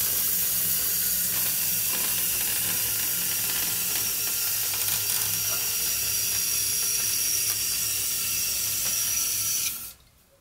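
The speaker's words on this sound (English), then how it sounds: "So now I'm going to continue spraying" A steady, close pressurised hiss of cavity wax spraying through a hose into a car body runs continuously for about ten seconds, then cuts off abruptly.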